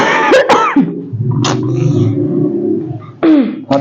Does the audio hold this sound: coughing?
yes